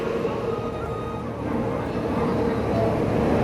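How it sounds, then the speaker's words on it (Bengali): Doon Express passenger train pulling into a station platform, a steady, fairly loud low rumble of rolling wagons that holds for the whole stretch without pause. "এই যে গাড়ি চলে আসছে"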